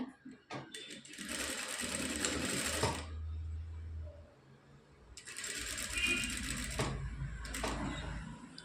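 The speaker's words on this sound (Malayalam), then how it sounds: "അതിനുശേഷം ഇതുപോലെ സ്റ്റിച്ച് ചെയ്തെടുക്കണം" A sewing machine stitches two kinds of fabric for a laktan design. It runs in two close, buzzing bursts with a quiet pause between them.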